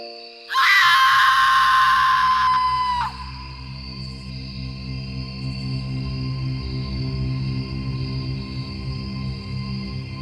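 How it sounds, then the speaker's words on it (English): A loud, drawn-out scream rings out for about two seconds, then cuts off and leaves a lingering echo over a low, steady woodland ambience in an audio drama set in the woods. "A scream penetrated the woods and echoed around Atticus"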